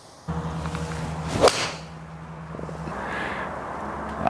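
A quick swish ends in one sharp crack of a Cobra Forged Tec golf iron striking the ball, heard once against a steady low background hum.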